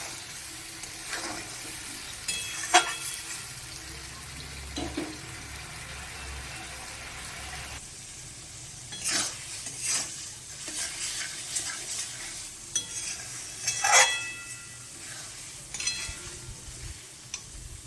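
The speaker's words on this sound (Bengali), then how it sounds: "এবার ভালোভাবে আমি মশলাটাকে কষাবো" Spice paste for Bombay duck fish is stirred and sautéed in a hot, oiled pan, giving a steady sizzle with scraping spoon strokes that come and go over about eighteen seconds, with a little water and faint background noise.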